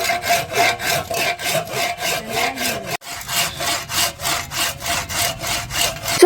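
Wood being hand-sawn for a bamboo bike build, with steady, rhythmic rasping back-and-forth strokes, close and clear, and a brief pause near the middle before the strokes resume.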